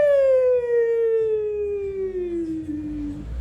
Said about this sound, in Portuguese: O Rafael ligou a sirene.